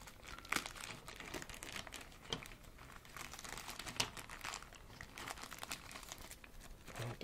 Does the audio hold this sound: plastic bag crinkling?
yes